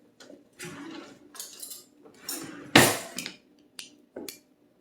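A metal spoon clinks and scrapes against the lid of an artichoke heart jar in a home kitchen while someone tries to pry it open: scattered knocks and rattles, one louder metallic clatter in the middle, then a few light taps.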